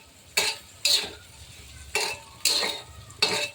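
Dried Bombay duck fish being sautéed in oil in a pan over a high gas flame, with five distinct bursts of spatula scraping and stirring against the pan over a faint background sizzle.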